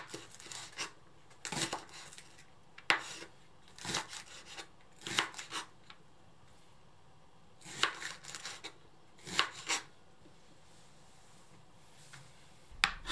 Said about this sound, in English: Cut the long green onion into thin slices.